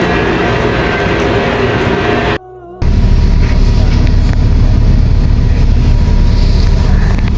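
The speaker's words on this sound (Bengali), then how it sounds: "এই ট্রেনে করে আসছি" Loud, continuous rumble inside a moving bullet train cabin between Taif and Makkah, briefly cut by a moment of near silence, then the steady roar resumes.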